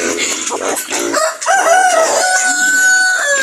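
A rooster crows loudly and close by, one long drawn-out call with a rising then sustained tone, amid other fowl noise.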